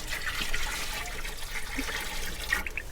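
Jaggery water, one kilo of dissolved desi jaggery, pours steadily into a container for a natural farming preparation, a continuous close splashing gush without speech.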